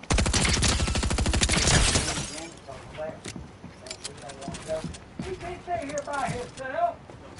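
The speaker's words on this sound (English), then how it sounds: "let me test my aim with the SMG" SMG fire in a video game: a fast, loud, steady burst of shots for about two seconds, followed by quieter scattered game sounds while people talk.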